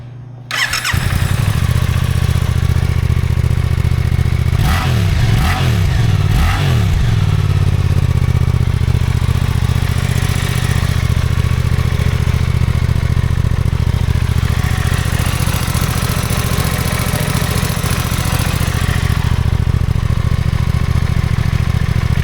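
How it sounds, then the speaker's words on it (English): A 2024 Suzuki GSX-8R/GSX-8S motorcycle engine with stock exhaust idles steadily and fairly quietly, with a brief rev and clatter early on, then a smooth continuous rumble throughout. "So I'm gonna run the bike with its stock exhaust"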